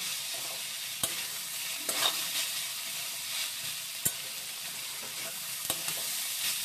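Strips of bottle gourd peel sizzle continuously in a hot pan, with a few isolated metallic scrapes and taps of a stirring spoon against the pan, close and low in volume, no voices.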